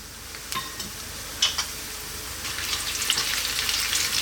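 Whole cumin seeds, green cardamom, black peppercorns, coriander seeds and dried red chilies sizzle in hot oil in a pan for a spicy Malvani chicken coconut curry, a steady crackling fry with a few sharp pops, rising slightly louder toward the end.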